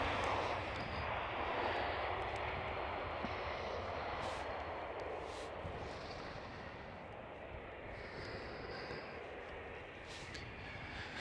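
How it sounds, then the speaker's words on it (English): A KLM Cityhopper Embraer E195-E2 passenger jet at East Midlands Airport, producing a steady, broad roar of jet engine noise that holds for the whole stretch and slowly eases, with no talking. "this one is a KLM Cityhopper"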